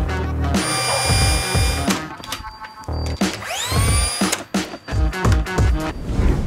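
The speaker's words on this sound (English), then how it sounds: "I can get some glue applied and get them nailed into place" Nailing glued wooden frame pieces into place: sharp percussive bangs and clatter mixed with brief whining power-tool bursts, close by and fairly loud, with no talking.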